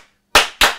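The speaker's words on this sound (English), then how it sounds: "clapping our hands" Two sharp, loud hand claps from a church congregation during a sung hymn, close together and alone with no other sound between them.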